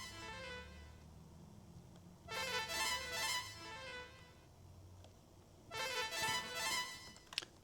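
Prophet synthesizer Blues Runner preset: bright, buzzy chordal bursts in two separate phrases over a quiet low hum, fairly faint, with no talking.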